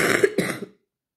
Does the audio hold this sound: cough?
yes